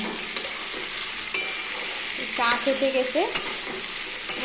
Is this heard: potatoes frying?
yes